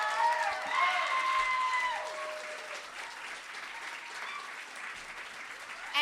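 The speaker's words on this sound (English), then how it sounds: "I would really love for you all to give a warm round of applause and welcome Angelic Goldsky to the stage" An audience gives sustained applause as an award recipient is welcomed to the stage at the Canadian slam poetry championship, a dense steady clapping that runs the full length with a faint tonal ring in the background.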